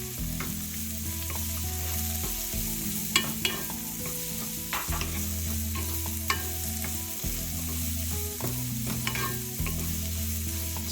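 Green onion and peas fry and sizzle in a pan for an egg scramble, with steady close crackling broken by scraping stirs every couple of seconds and no voices.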